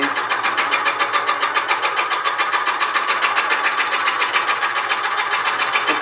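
A drill spins a bit boring into wood, a loud, steady motor whine with a fast, regular pulsing chatter that holds constant throughout, close up with no voices.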